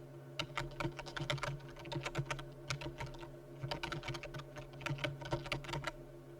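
Fingers type text on a computer keyboard in a quick, steady patter of close clicks, continuous and fairly quiet, with no voices.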